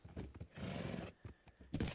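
A horse in a video game whinnies loudly in several sharp bursts, with hoof clops mixed in between the calls. No one speaks.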